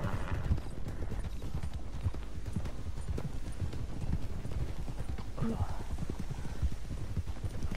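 Several American Paint horses in the New Austin area of the Red Dead Redemption 2 video game clip-clop steadily over ground as they follow along in a herd, a continuous close patter of hooves with a faint whinny partway through.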